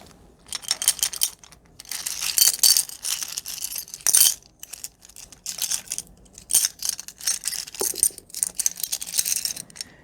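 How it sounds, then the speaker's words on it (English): Seashells rattle and clatter together up close in a quiet room, in bursts of bright, crisp clinking with short pauses between handfuls. "let me do a little seashell rattling"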